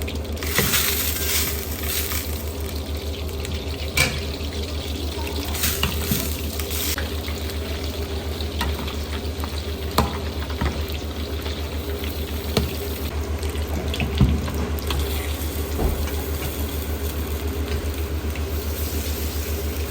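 French fries frying in hot oil in a cauldron, a dense, steady bubbling hiss with scattered sharp crackles and pops, close and continuous with no talking.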